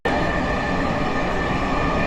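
A Dhaka metro rail train bound for Motijheel rumbles steadily, a continuous loud rolling roar with a constant hum.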